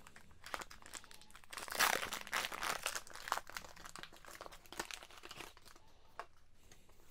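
Pokémon GO trading card booster packs torn open by hand, foil wrappers crinkling and ripping in close, loud bursts with rustling between, no talking.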